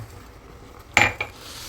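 Two quick clinks of crockery as a cup is taken out while tea boils, a bright ringing knock followed by a softer one, in a quiet room.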